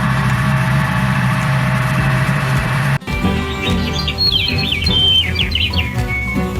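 Birds chirp and tweet in quick rising and falling phrases over a steady engine drone, after an abrupt cut from a louder mechanical hum.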